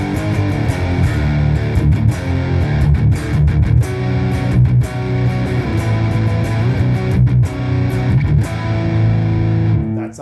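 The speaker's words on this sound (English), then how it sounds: "Here's the option with the mood switch on the left, which is for symmetrical clipping, which is going to sound more like what you think of when you think of a rat or some sort of distortion" Electric guitar played through a Black Sails distortion pedal set to symmetrical clipping, giving a thick, saturated, gritty tone as sustained chords and riffs ring loud and close, alone with brief pauses between phrases.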